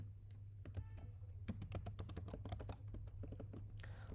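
Close, rapid clicking from a computer keyboard while React code is entered, an irregular run of crisp keystrokes in quick bursts over a faint low hum, with no talk.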